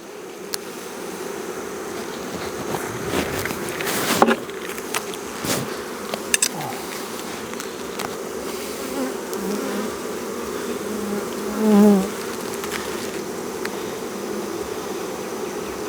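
Honey bees buzz steadily throughout an apiary walk-through, a dense continuous hum with occasional louder passes of individual bees close by and a brief swell near the end, with no talking.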